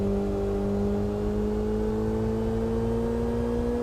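An opponent's race car engine in the Kaido Racer video game drones at a steady high pitch that climbs slowly, a constant electronic-sounding whine with no talking over it.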